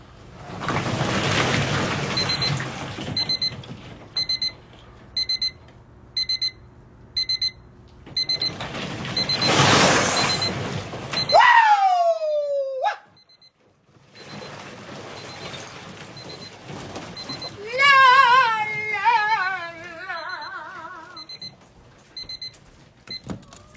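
Alarm clock beeping at an ice bath, in regular pulsed bursts that stop abruptly, followed by a loud shout and then a voice in sing-song, with water sloshing throughout.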